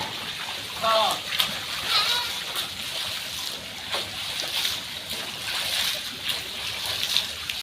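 Water splashing and sloshing as people bathe outdoors in the rain, a continuous wet splatter with occasional stronger splashes, heard close with voices talking over it.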